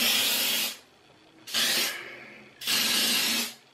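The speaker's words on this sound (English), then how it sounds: "I'm gonna put a little hairspray on the pump." Hairspray from an aerosol can hisses onto a modern pompadour hairstyle in three close, loud bursts, the first and last longer, separated by short pauses with no talking.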